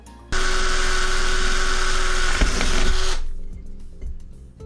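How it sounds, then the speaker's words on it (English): A power drill runs steadily at full speed while building a chat-controlled robot knife, a loud continuous whine that cuts off abruptly and then leaves faint workshop clatter behind. "Amazing drilling technique I was just using"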